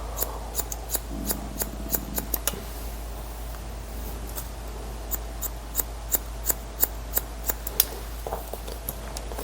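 Scissors snip hair in a run of crisp, regular close-up cuts during a buzz-cut style haircut, with a faint low hum underneath and no talk.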